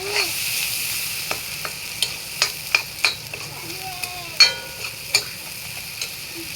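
Turmeric and spices are stirred in a frying pan while making paneer puri, with a soft frying hiss under sharp, irregular spoon taps and scrapes against the metal.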